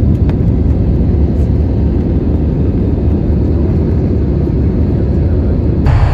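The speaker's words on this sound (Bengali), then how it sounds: "আমাদের বিমান দুর্বার গতিতে সাদা মেঘের ভেলায় ভর দিয়ে এগিয়ে চলেছে" Cabin of an airliner cruising from Kolkata to Bangkok, a loud, steady low engine roar and rushing air that stays unbroken throughout, with no voices.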